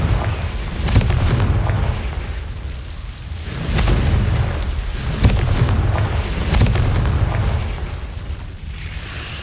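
Fiery Confringo spell blasts in Hogwarts Legacy: repeated booming explosive bursts with rumbling low-end roar, several sharp cracks spaced a couple of seconds apart, loud and continuous, no talking.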